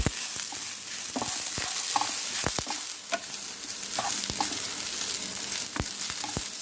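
Purple cabbage and mixed vegetable stuffing for spring rolls is stirred in a pan, giving steady scraping and tossing under a broad, continuous sizzle, with sharp clicks of the utensil at irregular intervals and no voices.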